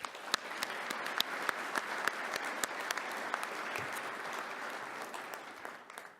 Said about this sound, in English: Please join me in giving Mr. Carmen a round of applause.